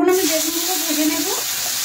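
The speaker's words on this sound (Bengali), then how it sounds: "এখন আমি বেগুনগুলো ভেজে নেব" Brinjal slices frying in oil make a brief, loud, even sizzle close by, with a thin whining tone running under the hiss.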